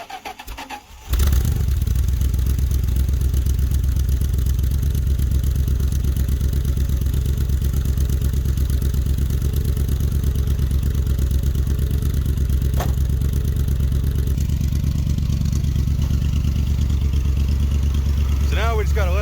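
An old 1970s street van's engine with a Street Demon carburetor catches after a brief crank and settles into a loud, steady, rumbling idle that runs continuously and close by, with a few faint knocks and clatters on top.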